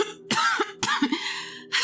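An older woman coughs several times in close succession, a throaty, rasping burst with brief pauses between hacks, near and fairly loud with no talk over it.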